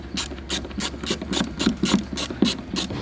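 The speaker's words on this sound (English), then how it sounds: "This is my handy ratcheting screwdriver." A hand ratcheting screwdriver backs out the screws of an old RV marker light, giving rapid clicking pawl bursts in a quick uneven rhythm, close and clear, with no talking.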